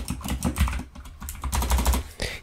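Rapid, irregular keystrokes on a computer keyboard while code is entered, close and fairly loud, with a steady patter of clicks across the short stretch and no voices.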